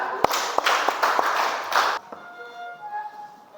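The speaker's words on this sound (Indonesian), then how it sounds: "Tepuk tangan untuk kita semua ya." A class of junior high students clapping their hands together during a religion lesson, a dense burst of many hands lasting under two seconds and then stopping abruptly, leaving quiet room tone.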